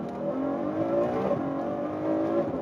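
A 2014 Ferrari F12 sports car engine hums with a steady, moderately quiet tone that swells slightly, heard from inside or near the car without talk.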